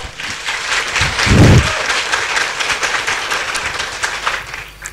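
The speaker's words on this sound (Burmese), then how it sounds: "ကျွန်တော်ဆရာဒေါက်တာဟင်းထုတ်ကိုလက်ခုပ်တန်လေးနဲ့ဂုဏ်ပြုပါအောင်ခင်ဗျ" A large audience applauding, dense sustained clapping that swells in the middle and keeps going for several seconds, loud and close, with no speech.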